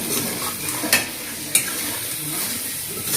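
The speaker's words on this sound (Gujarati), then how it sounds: "આપણે આમાં માવો એડ કરી દીધો છે અને હવે આને એકદમ ઠીક થાય ને ત્યાં સુધી હલાવતા રહેશું" Mawa milk solids are stirred into hot sugar syrup with lemon in a pan while making pedas. A soft continuous sizzle runs throughout, with a couple of sharp scrapes or clinks of the spoon.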